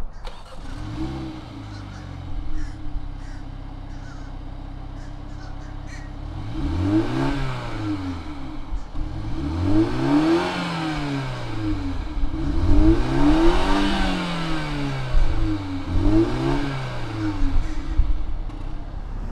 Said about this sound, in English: We're gonna go ahead and fire it up and see what does this Clubman sound like.